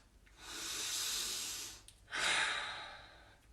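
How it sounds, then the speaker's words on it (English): Two long, slow breaths close by and alone, a deep inhale followed by a steady exhale, each lasting over a second with a brief pause between. "I want you to take a deep breath."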